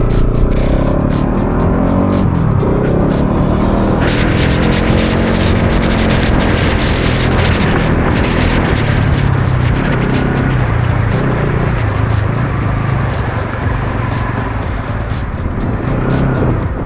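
A car drives along a sandy beach, its engine and road noise a loud, continuous rumble close by, with wind buffeting throughout and no talking.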